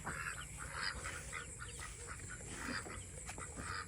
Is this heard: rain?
no